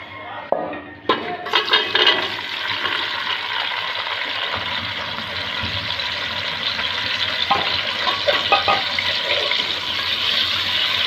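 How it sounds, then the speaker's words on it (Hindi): Eggplant pieces frying in hot oil with coarsely crushed spices, a loud, steady sizzle that continues throughout, with a few clinks of a utensil against the pan near the start. "और अब हम ऑयल में बैंगन डाल के फ्राई करेंगे।"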